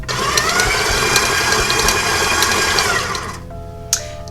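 An electric mixer whirls sour cream coffee cake batter in a steady, loud, continuous drone for about three seconds, then cuts off, leaving a faint hum and a small clunk.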